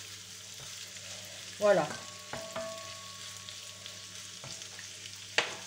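Meat and onion frying in a pan for a homemade paella, with a low steady sizzle, a brief louder burst of hiss as food is moved, a few light clatters of utensils and a short spoken word.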